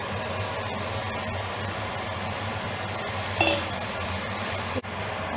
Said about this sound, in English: We keep stirring.